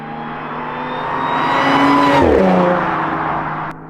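A loud modified Audi S5 roars past with a rising then falling engine note, its exhaust growling and crackling as it passes close by; no talking.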